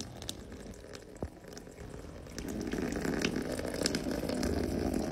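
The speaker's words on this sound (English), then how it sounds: "I can just keep pouring water on my shoes all day" Water pours onto waterproof shoes, a continuous splashing, trickling stream that grows fuller and louder midway, close by with no talk.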